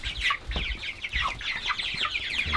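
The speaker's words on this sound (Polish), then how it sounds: "Pamiętajcie, że Broilery są kurami, które rosną bardzo szybko." Broiler chickens cluck and chatter close by in a busy, overlapping flock, with short sharp calls following one another quickly.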